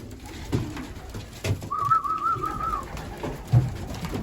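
Young racing pigeons heard in a loft yard, with a short, soft coo rising midway and faint rustling and flapping around it, fairly close and with no talk.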